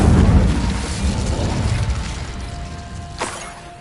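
A fire spell blast in the wizarding video game Hogwarts Legacy: a loud booming burst at the start that rumbles and fades over several seconds, with a sharp crackling flare near the end.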